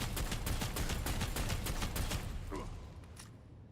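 Rapid gunfire in the Necromunda video game, a dense loud burst of repeated shots that tails off into a fading echo, with no talk over it.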